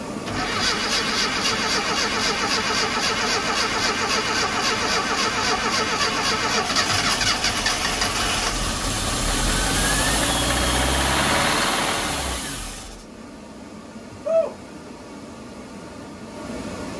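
A classic Mini's engine is started with petrol poured straight into the carburettor. It catches and runs loudly with a rough, buzzing idle and a rising rev for about twelve seconds, then cuts out into near silence with a faint knock.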